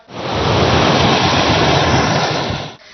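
Steady, loud rushing water roars without a break, a dense turbulent wash of a village stream overflowing from monsoon rain, pouring past close by.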